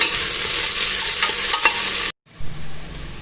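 Chopped onions sautéing in hot oil in a pan give a dense, continuous sizzle with scraping stir sounds, briefly interrupted near the end before the frying picks up again.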